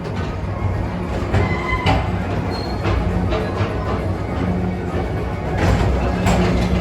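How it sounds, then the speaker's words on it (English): A Disney PeopleMover ride train rolls along its elevated track through Space Mountain with its lights on, giving a steady mechanical rumble with faint squeaks and clicks, continuous and close. "your express train keeps on rolling through the future"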